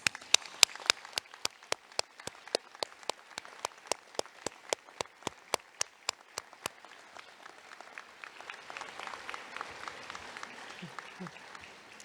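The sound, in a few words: round of applause from graduates for family and friends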